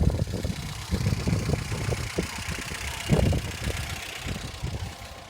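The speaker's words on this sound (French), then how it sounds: "c'est magique, la voiture a démarré" A Ford Fiesta, restarted after a year of sitting with a recharged battery, idles steadily with a low, rough rumble close to the mic. The rhythmic engine pulses fill the clip, with no talking.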